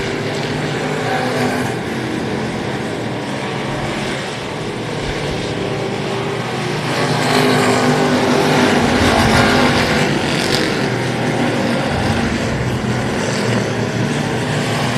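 Race cars roaring around the dirt oval at Texana Raceway Park, a continuous loud engine drone that swells as the pack passes nearby, with no voices over it.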